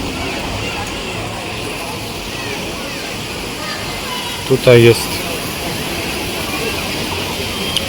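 A steady, rushing waterfall pours into a swimming pool at a resort in Egypt. It makes a constant broadband splash throughout, and a person speaks briefly over it near the middle.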